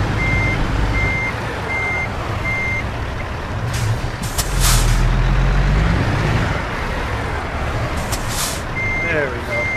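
A truck reverses its trailer in American Truck Simulator, steady rhythmic reversing beeps sounding over a low diesel rumble, with a hiss of air brakes partway through and a person talking over it.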